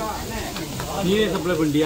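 Rock fish frying in a pan at a roadside fish stall in Dhanushkodi gives a steady, close sizzle, with people chatting over it.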